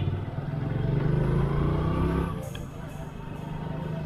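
A motorcycle rides along a road in Aurangabad, Bihar, on a late afternoon. Its engine hums steadily under road and wind noise, then eases off partway through.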